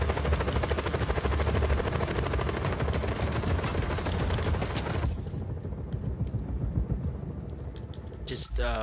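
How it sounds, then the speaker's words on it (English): Helicopter in the video game Just Cause 4, a loud rapid rotor chop with rattling gunfire-like bursts that cuts off abruptly midway, leaving quieter game sounds. "Stuck in the flipping helicopter."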